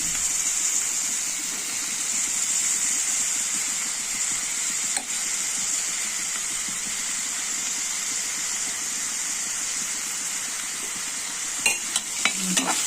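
Rice is stirred into spinach (palak) frying in a pan, a steady, even sizzle and hiss running throughout, close and fairly loud, with a few clinks and scrapes near the end and no talk.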